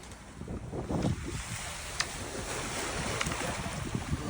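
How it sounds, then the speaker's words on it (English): A sailboat motor sailing through Bahamas waters, with a steady low engine drone mixed with wind buffeting the microphone and water washing along the hull. "Technically, we're motor sailing."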